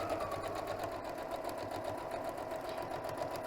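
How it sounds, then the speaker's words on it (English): Sewing machine running steadily while stitching a pillow case with a zipper, a dense continuous mechanical whir with rapid needle chatter, close and loud, no talking. "put your presser foot back down and continue sewing, taking out your pins as you go"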